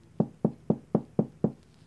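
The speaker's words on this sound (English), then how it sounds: "so I just heard a knock" Six evenly spaced knocks on a door, each a dull, fairly close thud at a steady rhythm, followed by quiet.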